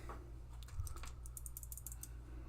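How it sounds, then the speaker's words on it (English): Small, crisp clicks sound in an irregular cluster while a Choc Corne low-profile split keyboard is assembled by hand. They are close and quiet over a steady low hum, with no talking. "Then you can hear every little click."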